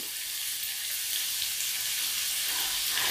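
Sliced onions frying in hot oil in a pan for a brinjal masala, giving a steady, close sizzling hiss that holds even and unbroken with no talk over it.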